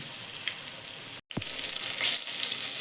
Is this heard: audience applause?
no